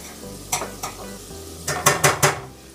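Harissa is whisked into a sizzling sauce in a pan, with a soft sizzle under a few sharp clinks and scrapes of the whisk against the metal, first two separate strokes, then a quick cluster of three.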